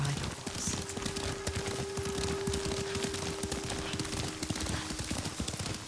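Horse hooves clip-clopping at a steady riding pace in the samurai game Ghost of Tsushima, a continuous rhythmic trot running the whole way with a faint game score tone and quiet voices underneath.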